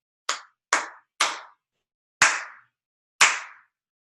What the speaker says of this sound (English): clap it back to me